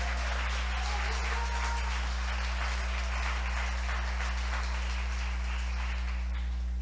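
A church congregation applauds loudly during a Spanish-language sermon by Pastor Héctor Millán, a steady, dense wash of clapping that holds for several seconds over a constant low hum, with no talking on top.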